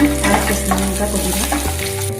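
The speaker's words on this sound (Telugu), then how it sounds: "ఇప్పుడు నెయ్యి కూడా వేస్తున్నాను" Ghee goes into a pan of frying peanuts and chillies for a pulihora-style dish, giving a loud, busy, continuous sizzle with stirring scrapes close by. A low hum drops away near the end, and no one speaks.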